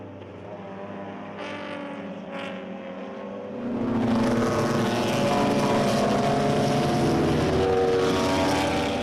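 Race cars at a BMW club race passing on the track, a faint distant engine drone that swells into a loud, sustained roar of several cars going by together.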